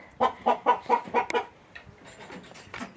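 A large rooster clucking in a quick run of about six even, loud clucks, followed by softer scattered clucks and faint background noise, near a fence.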